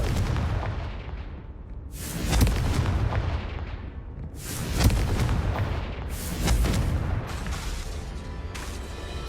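Confringo explosive spell blasts in the video game Hogwarts Legacy go off as about four heavy, booming bursts, each rolling out before the next. They are loud and spaced a couple of seconds apart, with almost no talk.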